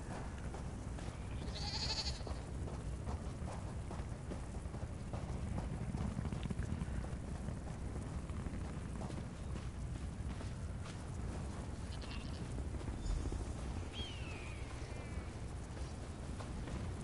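A goat in the video game Elder Scrolls Online bleats a few times, short nasal calls at a moderate distance, set against a steady wash of ambient outdoor game noise that resembles rain.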